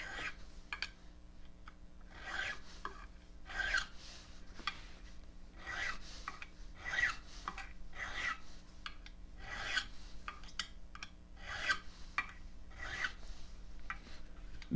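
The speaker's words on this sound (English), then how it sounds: "can you hear that? That's because I ran my file down there" A metal file rasping along the frets of a guitar in repeated back-and-forth strokes, close and fairly quiet, with a steady rhythmic scraping.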